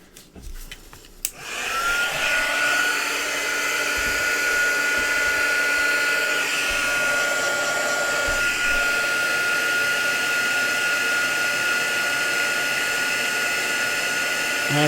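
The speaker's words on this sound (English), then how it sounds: "I'm just going to pop my heat tool on to warm up" An embossing heat gun switches on after a brief clatter and then runs as a steady, loud, airy whir, like a hair dryer, without pause.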